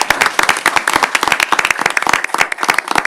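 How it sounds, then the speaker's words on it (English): Round of applause at a city council meeting, a small group clapping together with quick, uneven, overlapping claps, close and fairly loud. "really just give her a round of applause."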